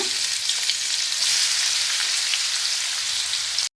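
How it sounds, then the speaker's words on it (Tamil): A bitter gourd and garlic mix hits hot oil in a kadai, setting off a loud, dense, continuous sizzle up close that holds steady for a few seconds before cutting off abruptly; no voices. "இப்போ எண்ணெய் சூடானோடனே நம்ம பாவக்காய் மிக்ஸ் பண்ணிக்கிறத அப்படியே அதில் சேர்த்துக்கோங்க."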